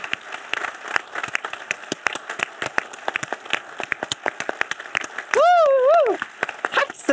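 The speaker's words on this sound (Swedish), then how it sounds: "en stor applåd till Rolf och Lena" Scattered clapping from an audience at a Swedish actors' talk with Lena Olin and Rolf Lassgård, steady individual claps mixed with voices, then a brief high rising vocal exclamation near the end.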